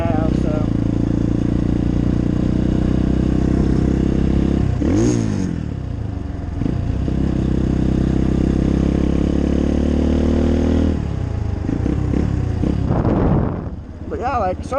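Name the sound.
2018 Apollo 250RX dirt bike engine riding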